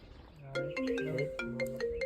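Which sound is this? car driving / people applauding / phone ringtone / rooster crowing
phone ringtone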